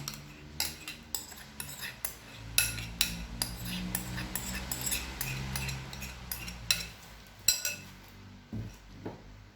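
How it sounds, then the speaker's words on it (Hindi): Whipping cream beaten in a bowl, heard as a steady series of sharp metallic clinks and taps of a utensil against the bowl, irregularly spaced over a low background hum. "फिफ्टी ml व्हिपिंग क्रीम लेंगे, इसे बीट कर लेंगे।"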